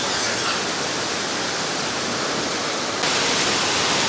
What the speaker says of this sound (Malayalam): ഇതൊരു എക്സ്ക്ലൂസീവ് വെള്ളച്ചാട്ടമാണ്.